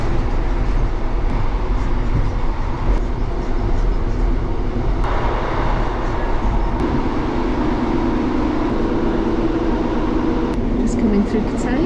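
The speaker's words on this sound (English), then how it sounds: "Oh, there's another train." A passing train on the line through Cathays in Cardiff city centre gives a continuous, steady rumble with a roaring wash of noise that fills the whole stretch at close range.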